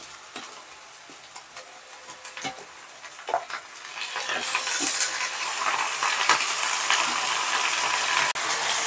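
Mutton pieces land in a hot pan with whole cardamom and cinnamon, setting off a loud, steady sizzle that swells midway and holds, with scattered clicks of stirring along the way.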